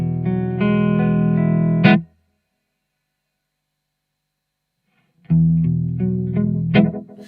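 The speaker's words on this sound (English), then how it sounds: "Echo oil can delay" Electric guitar chord through an echo oil can delay reverb effect, ringing out, cutting to silence, then struck again with a shimmering, swirling wash of repeats.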